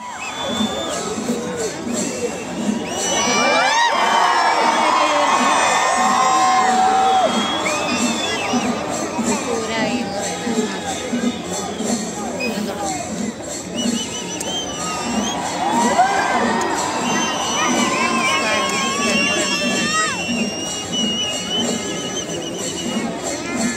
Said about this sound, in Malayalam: കാത്തിരുന്ന പൂരപ്രേമികൾ ആരവങ്ങൾ മുഴക്കി പൂരങ്ങളുടെ പൂരത്തിന് സ്വാഗതമരുളി